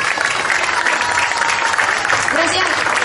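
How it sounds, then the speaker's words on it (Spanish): Loud, steady applause from an audience at a children's huapango dance performance, continuous clapping with faint voices mixed underneath. "Seguimos con un fuerte aplauso a nuestros jóvenes batangueros."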